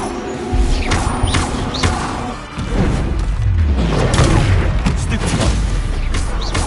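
A Bombarda spell explosion in a Harry Potter video game, a heavy booming blast followed by crashing, thudding impacts and rumbling debris, loud and close, with a brief dip before the roar swells again.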